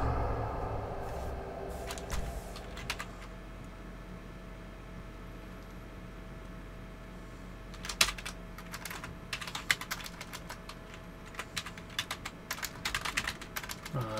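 Typing on a computer keyboard during a GTA 5 Online session: scattered clicks at first, then a long quiet stretch before dense, rapid key taps resume and keep going, close-up, over a low steady hum.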